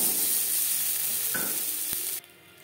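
Potatoes fry in mustard oil with a steady, close hiss and sizzle. The sizzle drops off abruptly near the end, as if the heat was cut or the pan was moved.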